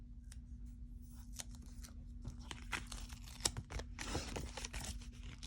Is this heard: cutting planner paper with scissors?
yes